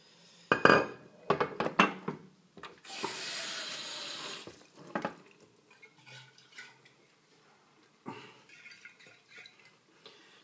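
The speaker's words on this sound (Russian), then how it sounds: "сейчас мы попробуем его уже промыть в сточной воде" Hot tap water runs into a sink to rinse a glass flask, a steady gushing burst in the middle with clinks and knocks of glass handled close by before and after, no talking.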